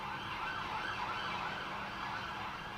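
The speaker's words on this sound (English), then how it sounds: "I don't know who's in this damn police car" A police car siren wails in slow, repeating rising and falling sweeps, steady and moderately distant over a low traffic hum.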